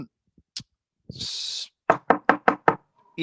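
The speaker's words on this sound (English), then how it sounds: "You might also hear a knock at your door" Five sharp knocks on a door land in a steady, evenly spaced run, loud and close, after a burst of hiss and a couple of faint thumps; no voices are present.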